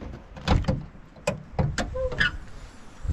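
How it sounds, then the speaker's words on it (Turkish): A car door on a Volvo S40 with its original 1.8 engine opens with a few close clunks and latch clicks, followed by a short electronic chime. No one speaks. "Başka kapıyı da açalım şimdi."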